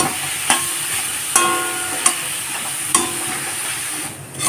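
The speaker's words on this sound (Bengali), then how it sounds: "গাজরটাকে বেশ ভালোভাবে ভাজা ভাজা করে নেব" Steady sizzling of carrots frying in a pan for carrot halwa, with a few sharp scrapes of a spatula stirring at irregular intervals, close and fairly loud.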